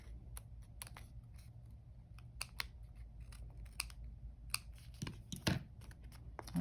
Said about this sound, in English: So I'm just going to trim off these little pieces.